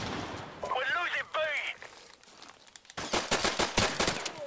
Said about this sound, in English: That shotgun's got crazy range.